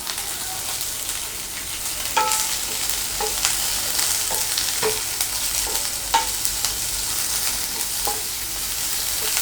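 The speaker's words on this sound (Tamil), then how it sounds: "ஸ்ப்ரிங் ஆனியனில் அந்த கீழே இருக்கிற அந்த ஆனியனையும் நம்ம சேர்த்து நல்லா வதக்கிக்கலாம்" Onions and spring onion bulbs sauté in a pan for chilli chicken, giving a steady, close sizzle broken by spatula scrapes roughly every second, with no voices.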